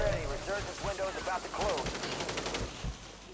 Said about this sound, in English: How is he shooting me through my shield?